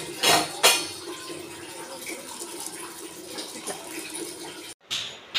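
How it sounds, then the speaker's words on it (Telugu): Rice and water handled in a cooking pot, with a couple of sharp splashing clatters at the start, a soft wet rustle after, and another burst near the end. "ఇలా వాటర్ తీసుకొని, బియ్యం తీసుకొని, వాటర్ లేకుండా ఇలా వేసుకోవాలి."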